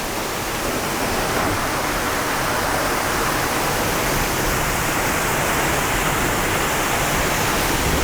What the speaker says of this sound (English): You see the water that's coming off my roof.